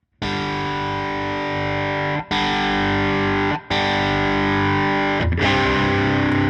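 A distorted electric guitar chord through a Tone City Double Durple overdrive pedal rings out loud and sustained, cut off twice by brief gaps, with a hollow, mid-scooped overdriven tone.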